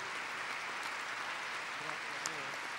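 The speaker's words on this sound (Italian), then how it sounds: "credo che si meritino un bel applauso" Applause at an afternoon conference session, thanking the speakers after their talks; an even, continuous wash of clapping from a seated audience, fairly faint and distant, with no distinct individual claps.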